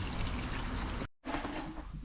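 Water is poured steadily into a newly built DIY fish pond as it is readied for the fish, a continuous splashing pour that breaks off briefly, then resumes at similar strength.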